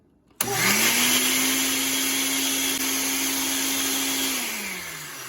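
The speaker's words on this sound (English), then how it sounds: "cover my blender and" A blender starts abruptly and whirs steadily at high speed on the liquefy setting for several seconds, blending a spicy chicken wing marinade, then its motor winds down near the end.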